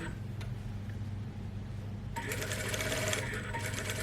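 Domestic sewing machine stitching a back tack on a seam, a faint steady mechanical whir that turns louder and busier partway through as it runs to the end of the seam.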